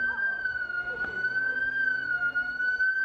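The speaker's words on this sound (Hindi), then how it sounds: "किसी करेंसी वाली शॉप का ये बज गया था सायरन" A currency exchange shop's security alarm siren wails with a steady, piercing tone on a market street in Tangier, Morocco, during a power outage, loud and continuous throughout.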